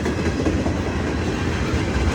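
Freight train passing near Texarkana: a loud, steady rumble with rhythmic clickety-clack of wheels, heard close and continuous throughout with no talking.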